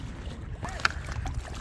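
Kayak paddle strokes on the Munroe Island backwater in Kollam: soft water swishes and a light knock over steady outdoor wind noise, brief and fairly quiet.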